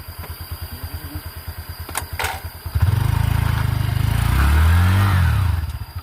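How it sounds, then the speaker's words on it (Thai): A motorcycle rides up out of a canal water channel in first gear. The engine chugs at a low idle, then revs up loudly and holds a strong, steady drone before easing off. No one speaks. "ขี่ขึ้นรถใช่เกียร์นึงขึ้นไปเลย"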